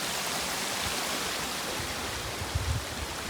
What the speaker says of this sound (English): River crossing. Legitimate river crossing.